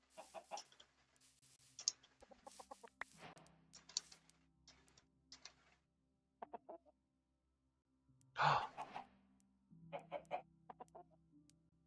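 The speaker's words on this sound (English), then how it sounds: "Chickens!" Chickens clucking in a video game, with a series of short, close clucks and squawks in bursts separated by brief pauses, and one louder squawk near the middle.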